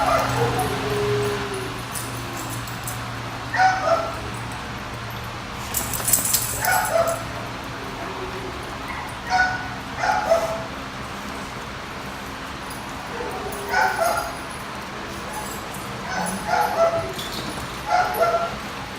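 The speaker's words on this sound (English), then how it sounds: "you can obviously hear there's a dog in the background barking" A dog barks and yips repeatedly in a veterinary hospital lobby, a series of short, moderately distant bursts and whimpers spread across the stretch, over a steady indoor hum.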